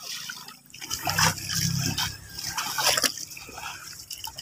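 Water flowing in a small river where crabs come out after a flood, a steady close rushing and trickling wash with broadband splashing throughout.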